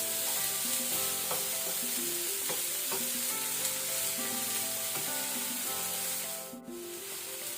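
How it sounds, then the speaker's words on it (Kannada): Banana flower palya sizzles loudly in a pan as it is stirred, a steady close frying hiss broken by regular scraping strokes of the spoon, with no voices. "ಬಾಳೆ ಹೂವು ಒಳ್ಳೆ ರೀತಿ ಇದನ್ನೊಮ್ಮೆ ಮಿಕ್ಸ್ ಮಾಡ್ಕೊಳ್ಳುವ."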